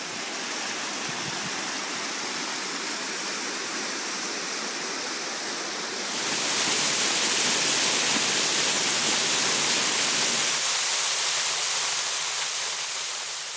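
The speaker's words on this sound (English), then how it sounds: "First, I had to make it past several majestic waterfalls." A steady rushing roar of waterfalls beside a trail on Isle Royale, a broad constant wash of falling water that grows louder midway as the falls come closer.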